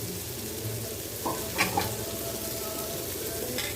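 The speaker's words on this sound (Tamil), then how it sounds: "உருளைக்கிழங்கு மசாலாவுக்கு பட்டாணியும் உருளைக்கிழங்கும் வேக வச்சு வச்சுருக்கேன் கொஞ்சம் மசிச்சு கொடுக்குறேன்" Boiled peas and potatoes are mashed in a pan for potato masala: a steady, close, soft scraping and squishing with a few brief utensil clinks near the middle, and no talking.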